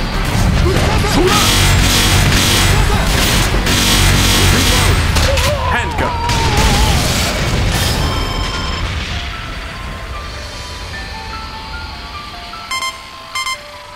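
Shotgun blasts and crashing impacts from the arcade shooter Time Crisis 5 pound loudly in a dense burst of gunfire and explosions, fading out toward the end with a few electronic beeps, voices mixed in.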